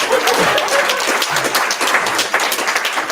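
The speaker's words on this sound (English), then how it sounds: "Okay, you can clap." An audience claps and cheers after a live song performance, a dense burst of applause that stays loud and steady for a few seconds.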